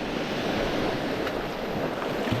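Sea waves washing steadily against a rocky shore on Cardigan Bay, West Wales, a constant broadband surge of surf and light wind with no voices.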